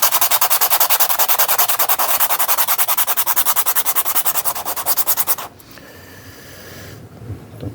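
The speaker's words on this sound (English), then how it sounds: "we're just going to just sand down that edge there a little bit" Close, steady rhythmic rasping as the edge of a ring made from an Egyptian 1 pound coin is sanded, lasting about five seconds before stopping into quiet handling noise.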